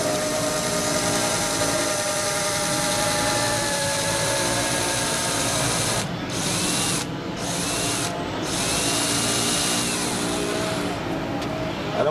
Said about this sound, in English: My plan is to drill a hole in the top here